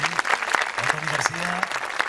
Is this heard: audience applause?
yes